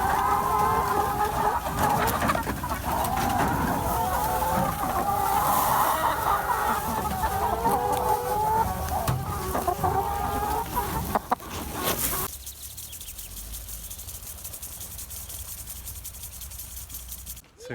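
Hens cluck and rooster calls rise from a flock of chickens on a no-dig market garden and farm, lively and close for about twelve seconds before dropping to a quiet hiss.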